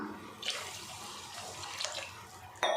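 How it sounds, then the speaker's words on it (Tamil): Water and tamarind water are poured into a village-style lentil-dumpling curry in a clay pot, making a soft, close trickling splash with a brief louder pour at the end. "கூடவே கொஞ்சமாக தண்ணி சேர்த்துக்கலாம்."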